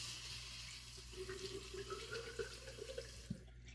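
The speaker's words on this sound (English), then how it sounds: "Let me add some more water to this." A tap runs as water is added to a thirsty shaving soap during a straight-razor shave, a steady close flow with light splashes that cuts off at the end.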